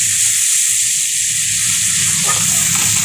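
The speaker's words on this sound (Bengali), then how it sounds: "লঙ্কা পেঁয়াজটা এই গরম তেলে দিয়ে দেবো। দিয়ে একটু ভেজে নেবো লাল করে" Chili and onion hit hot oil with crushed garlic, a loud, steady close-up sizzle that hisses without pause and with no talk over it.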